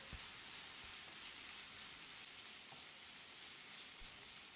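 Ginger garlic paste with coriander powder, chili powder and chopped coriander leaves sautés in a pan for a potato pepper fry, making a steady, soft, close sizzle that hisses evenly throughout with no talk.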